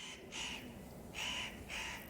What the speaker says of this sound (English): which is that bird crowing in the background